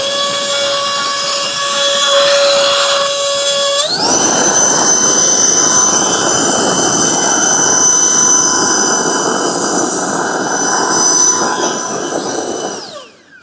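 An electric fan blows on the sail of a toy sailboat, with a steady whirring hum that jumps up in pitch and loudness as it speeds up, then runs continuously before cutting off.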